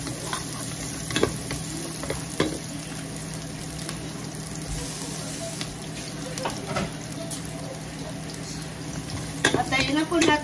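Onions, garlic and ginger sauté in a hot pan for beef pares, a steady sizzle broken by scraping stirs and clinks of the utensil, with a louder flurry of stirring near the end.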